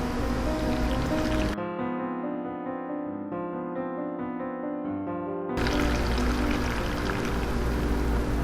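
Anchovy broth poured into a bowl of young radish kimchi seasoning, a steady close liquid stream running for about four seconds between louder bursts of kitchen noise.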